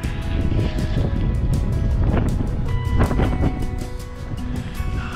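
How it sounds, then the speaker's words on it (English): Strong wind gusts in the San Bernardino National Forest roar and buffet the microphone in a continuous rumbling rush, loud and steady throughout with no voices. "The wind has just been vicious today."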